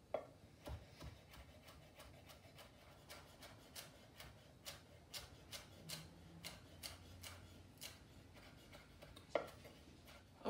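A knife slices thinly through a tight roll of basil leaves on a cutting board for bruschetta, giving a steady series of crisp, close chopping taps with no talking.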